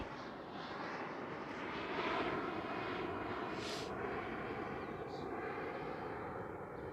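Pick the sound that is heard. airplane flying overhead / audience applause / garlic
airplane flying overhead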